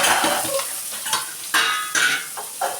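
Onions sizzle and frying in a pan with whole spices like mace, cinnamon, star anise, bay leaf and cloves for a Saravana Bhavan style veg kuruma, with stirring scrapes and a few louder bursts as pieces hit the hot oil.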